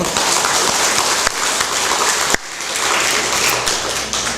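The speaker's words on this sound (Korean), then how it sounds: "우리 박수 한번 칠까요?" A church congregation claps together during a sermon, a steady dense patter of hands with a few sharper claps standing out, moderately loud with no speech.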